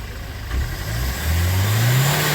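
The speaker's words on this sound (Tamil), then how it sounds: "ஸ்விஃப்ட் டிசைர் வண்டி, இன்ஜின் நாய்ஸு" A Maruti Swift Dzire car engine revs hard during decarbonising, a close, loud mid-pitched roar that climbs steadily in pitch as the throttle is held open.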